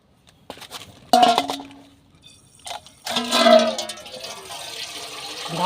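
Running tap water splashes onto rock fish being washed, with bursts of gushing water and a few clinks against a container or sink, loud and close, stopping and starting in uneven spurts.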